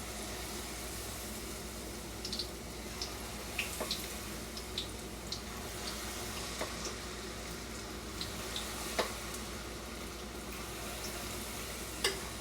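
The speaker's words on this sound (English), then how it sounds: "So while my fritters are frying" Jamaican saltfish fritters fry in oil, a steady low sizzle broken by scattered soft pops and crackles, fairly quiet and without talk.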